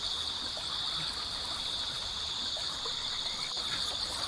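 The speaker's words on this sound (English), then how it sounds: "Going into that river." River water in a video game flows in a steady, continuous rush with a bright hissing edge, even and unbroken throughout, with no voices over it.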